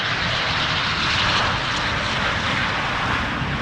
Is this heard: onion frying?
no